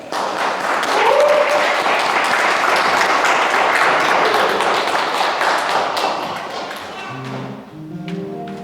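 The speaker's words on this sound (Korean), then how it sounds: "나오실 때 박수로 환영해 주시기 바랍니다" A church congregation claps loudly in a dense, sustained burst of applause that fades after about six seconds, giving way to gentle instrumental notes from the worship band.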